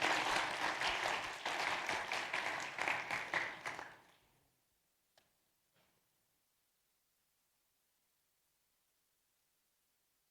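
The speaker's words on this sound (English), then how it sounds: "Can we give them a round of applause to encourage them" An audience at an industry seminar on strategic trade management claps for panelists joining the stage, with steady applause lasting about four seconds before fading into silence.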